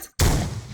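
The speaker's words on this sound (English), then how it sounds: "Explosion's facing the wrong way." A loud explosion from a space shooter video game under development bursts in suddenly after a brief silence, then rolls on as a dense, crackling rumble that slowly fades.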